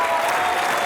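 A studio audience at a comedy show breaks into loud, sustained applause, a dense wash of clapping that fills the room without a break.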